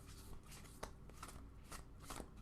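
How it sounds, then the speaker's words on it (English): Tarot cards being shuffled by hand, a soft continuous riffling and flicking with brief crisp snaps, close and quiet with no talking. "I'm just going to shuffle a bit more"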